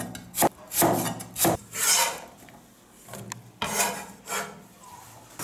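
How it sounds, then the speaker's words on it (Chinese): A knife cuts a scallion diagonally into slices on a wooden cutting board, giving several crisp chops and short scraping strokes in an uneven rhythm. Close and clear, with no talking. "斜刀切成片"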